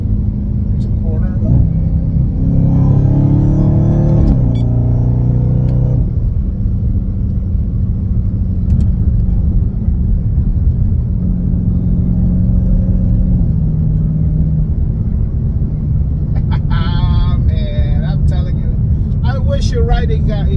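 Dodge Hellcat engine rumbling steadily from inside the cabin while driving, with a low continuous drone that rises in pitch during acceleration.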